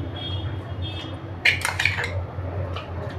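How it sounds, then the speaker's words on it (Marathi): A metal lid set onto a cooking pot of salted water with sesame seeds, brought to a boil for dough: a couple of short metallic clinks near the middle, close and clear over a low steady kitchen hum. "आता आपण याच्यावरती झाकण ठेवायचे"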